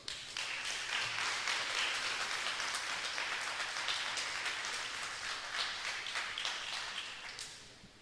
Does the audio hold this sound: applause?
yes